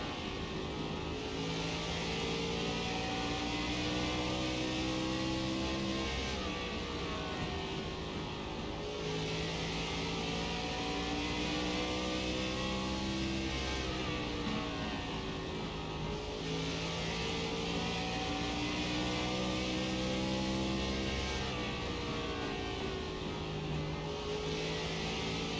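A race car engine roars steadily throughout, its pitch rising on the straights and dipping as it slows for corners, repeating in cycles like laps around a track.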